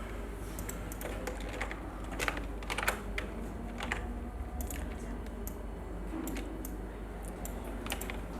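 Steady typing on a computer keyboard while entering a name for a certificate design, with rapid close key clicks in an irregular rhythm, running the whole time at an even level and with no voice over it.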